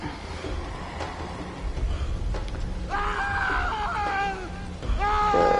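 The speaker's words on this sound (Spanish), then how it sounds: "Escucho gritos, tío. Tiene que ser alguien. Es un ego. Ah, es un ego que grita" Screaming enemy ego in the horror video game Evil Dead Terror: harsh, wavering shrieks rise and fall over a rumbling game backdrop, with a louder burst near the end.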